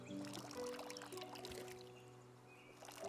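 Water poured from a watering can onto crop fields in the farming game Hokko Life, a steady trickling pour running continuously and fairly loud throughout, with no talking.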